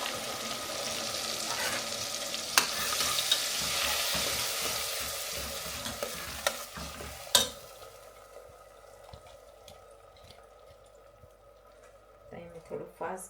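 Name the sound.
tomatoes, ginger and green chillies frying for pav bhaji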